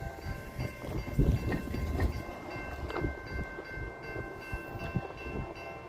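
A freight train of empty steel slab cars rolls past at speed, a continuous rumbling clatter of wheels and rattling cars with wind buffeting the microphone, heard outdoors without talk.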